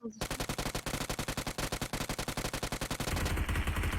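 Rapid automatic gunfire from PUBG Mobile rattles in a long, evenly spaced burst of loud close shots, then gives way to a denser roar at the end.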